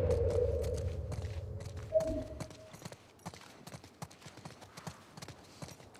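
Horse hooves clip-clop in a steady walking rhythm, with a low rumbling hum early on that fades, leaving the hoofbeats fairly close and clear, from the video game The Last of Us Part II.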